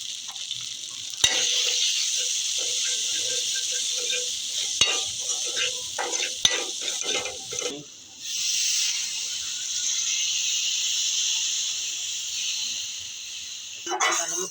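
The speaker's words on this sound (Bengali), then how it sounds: "ভালো মতো কষাই নিব মশলাটা।" A spice paste of turmeric, dried chilli and coriander powder fries loudly in a pan with a sharp, steady hiss, punctuated by stirring clanks and a brief pause before the sizzle resumes.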